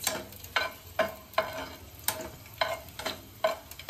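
Garlic frying in oil in a pan while a chutney of ambadi leaves is prepared, a soft steady sizzle broken by sharp periodic clicks and scrapes of stirring, close and fairly quiet.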